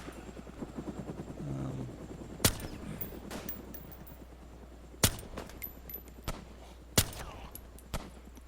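Suppressed gunshots fired at zombies in the BreakingPoint video game come as a handful of sharp, isolated cracks spaced a second or two apart over a constant low droning hum, with no speech.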